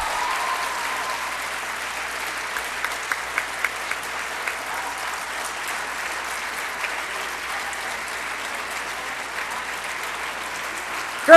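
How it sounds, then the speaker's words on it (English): Audience applause at a high school yearbook ceremony, sustained even clapping from a large crowd in a hall, with a few louder individual claps near the start. "Please give Allie, Amanda, and Lauren a round of applause as they come up."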